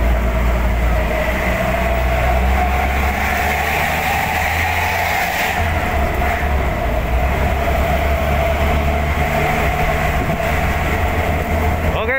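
Busy holiday traffic on the Denpasar–Gilimanuk road in Bali gives a loud, steady, unbroken rumble of passing vehicles with a deep low drone.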